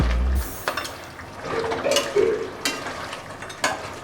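Goat head curry cooking down in a pan over high flame, with a soft steady sizzle, scattered scraping stirs and light clinks of a spoon against the pot, close up and with no talking.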